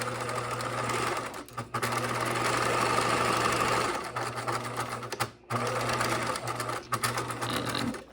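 A sewing machine stitches a rolled hem along fabric with a steady, close mechanical whir and rapid needle chatter. It runs almost continuously, with a couple of brief stops, and a faint voice sits beneath it.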